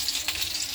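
Garlic, onion, green chili and salt fry in hot oil for a red spinach dish, giving a brief, steady, close sizzling hiss with no voices.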